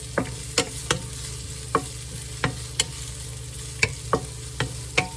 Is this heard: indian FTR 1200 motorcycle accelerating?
no